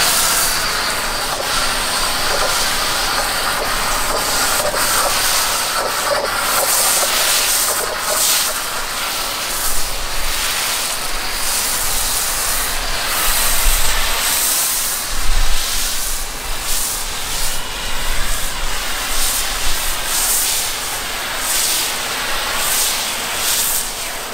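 Foam cannon spraying Adams car wash foam onto a car: a loud, continuous hissing spray with slight surges and pulsing, up close and steady for the full stretch, with no talking.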